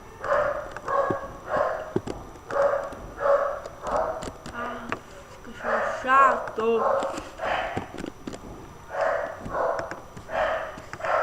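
A dog barks in the Minecraft video game, with repeated short barks in a steady rhythm running under loud, continuous talking and exclamations.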